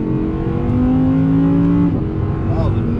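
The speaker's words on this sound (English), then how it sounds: "Oh, the noise, ladies and gentlemen, that V10." A loud Audi R8 V10 Plus engine drones at a steady high pitch, then shifts and climbs again, close and continuous.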